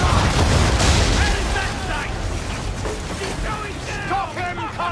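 Ship cannons fire a broadside in a naval battle in Assassin's Creed III, a run of loud booms and mechanical clatter in the first seconds, then dense battle noise under raised voices shouting.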